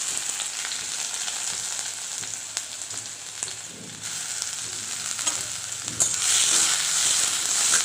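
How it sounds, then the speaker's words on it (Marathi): Onion fries in hot oil in a kadhai, giving a steady close sizzle with occasional spatula scrapes and stirring clatter, growing slightly louder toward the end. "तेल गरम झाल्यानंतर आपण त्याच्यात टाकणार आहोत कांदा"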